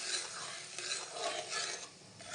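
Ground masala frying in a pan for a homemade matar aloo dish is stirred with a spoon, giving continuous scraping strokes over a soft sizzle, close and steady.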